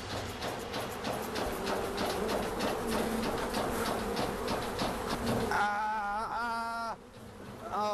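A dense swarm of angry bees buzzes loudly and continuously around a person. Sharp whining tones rise over the hum near the end.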